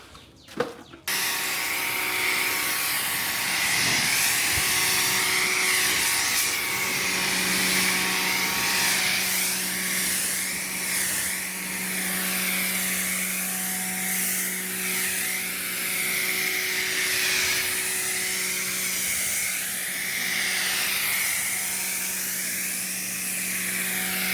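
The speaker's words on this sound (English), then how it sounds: "you can achieve that easily with this new Ryobi pressure washer" A Ryobi 1.8 GPM pressure washer running in a car-wash setting, a loud steady electric motor whine with a hissing water spray that wavers slightly in pitch, starting after a brief clatter and holding on alone.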